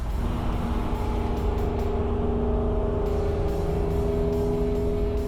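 1959 Cadillac convertible engine hums steadily while driving, a loud continuous drone with road and wind noise and no break throughout.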